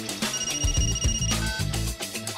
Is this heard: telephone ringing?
yes